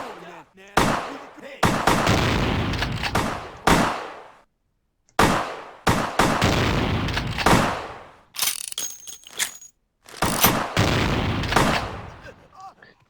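Shotgun blasts in a dim bar in Vampire: the Masquerade – Bloodlines, several loud booming shots with short gaps between them, trailing off and then resuming, and no talk over them.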